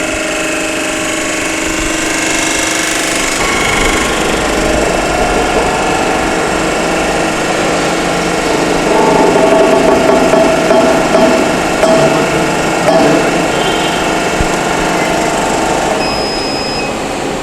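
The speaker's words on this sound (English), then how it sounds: "Give a start command of your hydraulic jack and run the setup." Hydraulic jack of a compression testing machine runs with a steady mechanical whir and hum, loud and continuous throughout, building slightly in intensity midway while testing a cement mortar sample.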